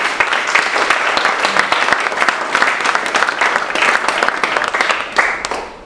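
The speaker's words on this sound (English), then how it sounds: "Thank you very much to Richard and Felix, so big round of applause" A large indoor audience applauds steadily at a workplace talk evening, a dense, loud wash of many hands clapping at close range that holds for the whole stretch without talk over it.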